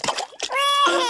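A cartoon foot splashes into pool water in Peppa Pig, a quick close splash followed at once by a child's high, drawn-out whimpering voice.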